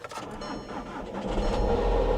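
Genesis luxury car engine starting with a booster pack, a cranking whir building into a rising rumble as the engine catches, close and fairly loud.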